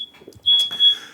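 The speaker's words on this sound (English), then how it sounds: "my fire alarm is going off" A home fire alarm sounds a loud, steady high-pitched electronic tone that starts abruptly partway through and holds, briefly broken, with faint room noise before it.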